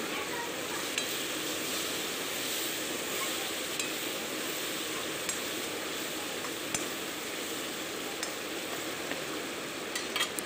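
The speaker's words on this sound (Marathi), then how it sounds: "आता टमाटर थोडंसं तेलात शिजू द्यायचं" Tomatoes cooking in oil in a pan sizzle steadily and close, a dense continuous fry with occasional small clicks of a utensil, no voices over it.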